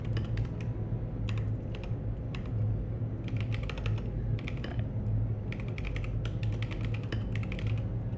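Bursts of typing on an unfamiliar computer keyboard come in irregular clusters of quick clicky keystrokes, close up, over a steady low hum with pauses between runs.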